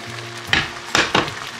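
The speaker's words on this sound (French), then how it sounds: "Et on va continuer de mélanger." Risotto is stirred in a pan with chicken broth, a soft simmering hiss broken by three quick scraping stirs of a spoon, close and brief, no talk.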